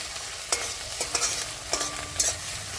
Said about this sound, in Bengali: ডিম ভাজা হচ্ছে আমাদের।